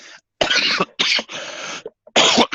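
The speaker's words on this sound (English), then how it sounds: "so I apologize for my coughing in advance" A series of harsh, loud coughs close up from someone who is ill, broken by brief pauses, one drawn-out hack in the middle.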